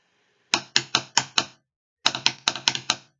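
Two short bursts of crisp multiple-bounce snare roll strokes, five then six hits, each stroke a two-bounce rattle, close and clear with a pause between.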